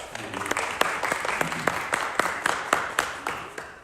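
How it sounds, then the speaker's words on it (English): A lone person clapping in a church service, with sharp, evenly spaced hand claps at a steady rhythm, close and fairly loud, over a faint murmur of room sound. "Yes, I'm going to applaud you."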